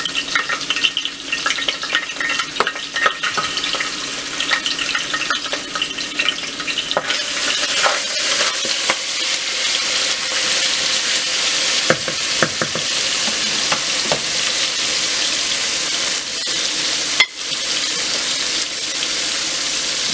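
Broccoli stir-frying with garlic and onion in a hot pan or wok, a steady loud sizzle with stirring scrapes and clatters throughout, no voices.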